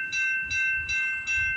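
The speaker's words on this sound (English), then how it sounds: "This train's going to be motoring through." A CP freight train passes a level crossing at night in winter in Campbellville, Ontario, with the crossing bells dinging in a steady, evenly spaced rhythm over a low rumble of the train.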